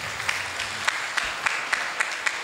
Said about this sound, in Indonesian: aplaus ya buat Ustazah ya